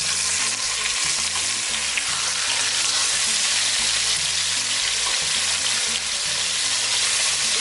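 Chicken pieces with skin browning in a pan for a keto peanut butter chicken, a loud, steady, close sizzle that runs unbroken throughout with no speech.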